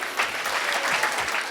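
Audience applause at a devotional gathering for village devotees at Srivilliputhur: dense, steady clapping from a crowd, fairly close and sustained throughout without a break.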